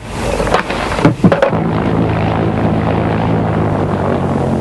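A propeller plane carrying bulk newspaper deliveries from London to Sanday, heard as a loud, steady engine drone close by with a few brief thumps near the start, continuing alone.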